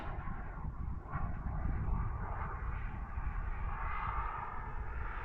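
A foam AeroFoam L-39 radio-controlled model jet flies overhead with a steady, rushing whine of its ducted fan, holding a continuous moderate roar that swells slightly as it passes.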